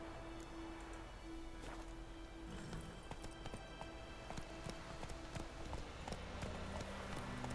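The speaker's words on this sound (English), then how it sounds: "Estamos aquí montando nuestro caballo junto a nuestro compañero de armas, Vesemir." Horse hooves clip-clopping in a steady rhythm while riding alongside a companion in The Witcher 3: Wild Hunt, close and continuous over a soft ambient bed, with a faint sustained tone running behind.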